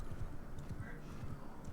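Horses gallop across open ground in the video game Mount & Blade II: Bannerlord, a soft, muffled run of hoofbeats mixed into steady battlefield ambience.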